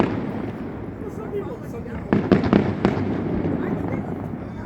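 A fireworks display over the DC waterfront during a Mardi Gras celebration, with a rolling rumble and a burst of sharp crackling bangs at moderate distance, while people talk nearby.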